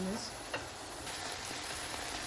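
Steady frying sizzle from a pan of homemade pasta cooking down until its liquid evaporates, a continuous hiss with a soft stirring scrape near the start, close and even throughout.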